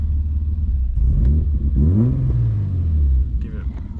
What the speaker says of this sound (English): Give it one rev, nothing there.